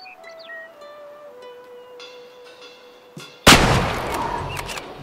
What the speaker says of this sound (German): So, ich schieße jetzt.